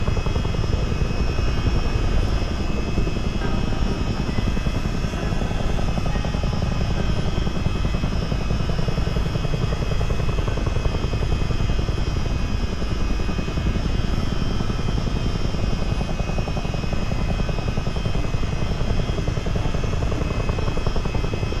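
A Miltech CH-47D Chinook helicopter in a flight simulator game climbs after departure, its steady rotor and engine drone loud and continuous with a constant thrumming texture and no talking.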